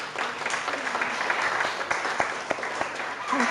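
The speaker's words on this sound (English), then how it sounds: "Round of applause, thank you." Dense, steady audience applause fills an award presentation hall, a continuous wash of many hands clapping at even loudness with a few sharper individual claps standing out.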